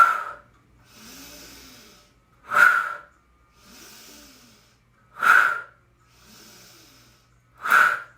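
Four forceful, sharp exhales through the nose during a yoga breathing exercise, evenly spaced about every two and a half seconds, each followed by a softer, quieter inhale, close and alone.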